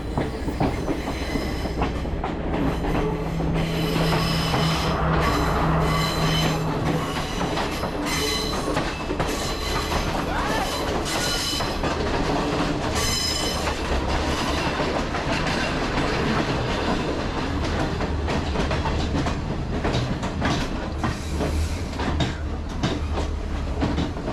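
A passenger train runs along the Badulla railway in Sri Lanka, its wheels clattering steadily and close throughout, with a dense roar of carriage noise and occasional brief squeals.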